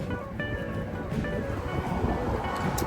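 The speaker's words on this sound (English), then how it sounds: "Very windy" Wind rushes steadily across the microphone on a golf course at a par 3 hole, a constant low rumbling buffet outdoors with faint tonal hum and no clear voices.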